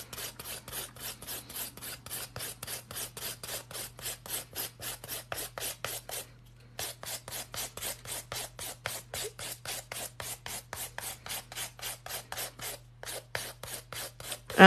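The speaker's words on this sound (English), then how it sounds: "I do most of my filing with the hand file because it's easier for me." Acrylic nails filed with a hand file, producing a long run of quick, evenly spaced rasping strokes, close and clear, with two brief pauses and a faint steady hum underneath.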